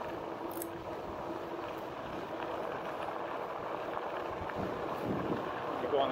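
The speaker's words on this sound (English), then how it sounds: "Oh, getting some wind here." Wind rushing over the microphone while riding a Rad Power RadRover electric bike outdoors, a continuous broadband buffeting roar, moderately loud and steady for several seconds.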